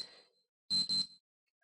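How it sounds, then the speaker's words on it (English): A room alarm timer gives two quick, loud electronic beeps close by. A brief softer sound comes before them, then silence. "I don't know if you can hear my alarm, but it beeps."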